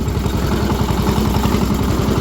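A mini tractor engine idles steadily and loudly close by, a continuous low chugging rumble with a rapid even pulse and no voices.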